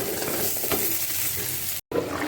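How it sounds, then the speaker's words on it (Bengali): Dried lentil dumplings (bori) frying in hot oil, a steady close sizzle with soft stirring scrapes and a brief cut near the end. "একটু বড়িটাকে ভেজে দিচ্ছি"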